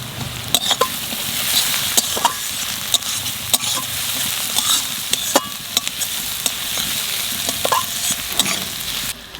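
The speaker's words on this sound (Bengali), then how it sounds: "কটা চিড়ে রাখা কাঁচা লঙ্কা দিয়ে দেবো।" Slit green chillies fry in hot oil with nigella seeds in a home kitchen pan, giving a steady close-up sizzle broken by sharp spatula clicks and stirring scrapes.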